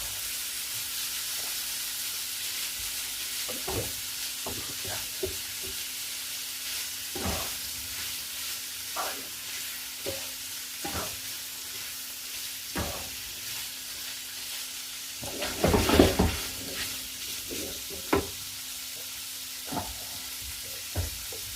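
Mince browns in a pan for spaghetti bolognese, a steady low sizzle under scattered scrapes and knocks from stirring, with a louder clatter of activity partway through and no speech.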